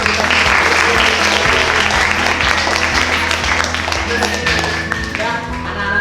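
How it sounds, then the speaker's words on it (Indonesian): A classroom of children claps together as a group, steady dense applause filling the room at close range, with some voices and music mixed in underneath. "Oh, kita tepuk tangan untuk kita."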